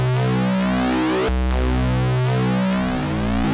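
A harsh, buzzing synthesized tone from a bitfold effect on a sawtooth wave, with a folded, distorted timbre, holds steady, jumping in pitch midway and shifting again near the end.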